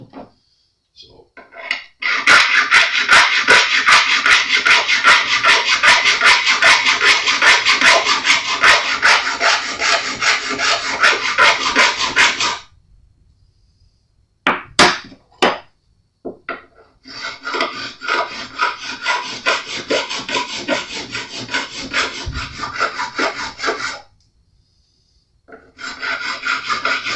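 Stainless steel frets on a Jazz Bass neck being leveled make a harsh, close rasping scrape in long continuous strokes, broken by a silent pause and a few short scrapes before another long pass.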